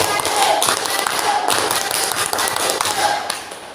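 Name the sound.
group doing the scout clap (tepuk pramuka)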